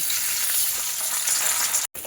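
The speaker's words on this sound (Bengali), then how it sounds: "এইবার আমি কাতলা মাছগুলো ভেজে নেব।" Catla fish frying in hot oil gives off a loud, steady sizzle that drops out briefly before resuming.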